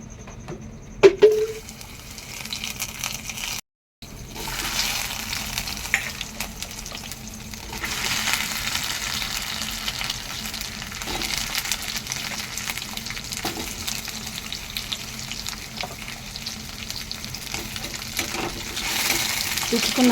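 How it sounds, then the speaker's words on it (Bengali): Cumin seeds frying until reddish in a pan, with pieces of gathi kochu (taro) added one by one, give a steady, dense sizzle that runs throughout, broken only by a brief silent gap just before the four-second mark. "জিরেটা লাল লাল করে ভেজে তারপর আমি এখানে গাটি কচুগুলো একে একে দিয়ে দেবো"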